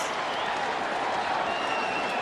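A Mexican crowd at a boxing arena, during the first Pacquiao versus Marquez bout, roars and applauds in a dense, steady wash of noise, with a cornerman's voice faintly underneath.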